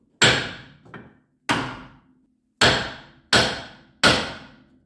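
Hammer blows on the ball joint of a T25 steering knuckle, five sharp metallic strikes at uneven intervals, each ringing off briefly, plus a softer knock after the first, close and loud with no talk.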